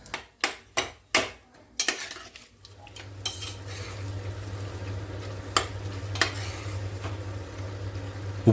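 Spiced bread mixture in a pan for masala bread ghee roast, opening with several sharp knocks of a spoon on the pan, then a low steady hum and sizzle with occasional stirring clinks.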